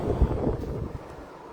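Short gusts of wind buffet the microphone, a low rushing rumble that swells and fades with no voices.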